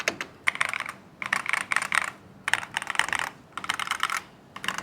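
Bursts of fast typing on an Epomaker Brick 87 mechanical keyboard fitted with thick-walled keycaps, giving a deeper clack; four clustered runs of close, crisp keystrokes separated by short pauses, with no talking.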